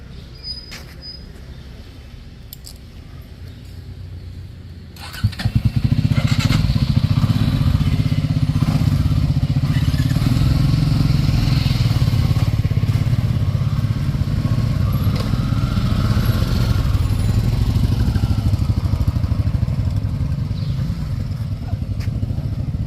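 A group of bikers from Jayant in Singrauli district start their motorcycles, and the engines jump to a loud, steady close rumble after a thud. They ride on, with faint voices underneath.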